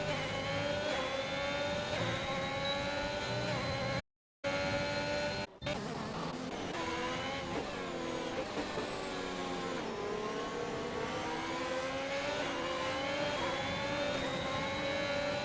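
Race cars passing in a Great Britain round of a no-assist racing game league, with loud, continuous high-revving engines whose pitch rises and falls as the cars pass in a close train, interrupted by a brief dropout.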